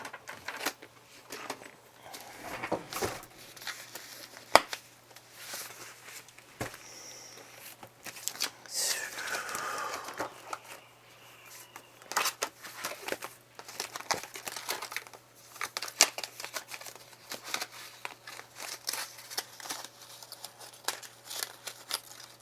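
Paper being cut into squares with scissors for a craft insert: soft crinkles and intermittent snips come in uneven bursts with short pauses, close and fairly quiet, and no one speaks.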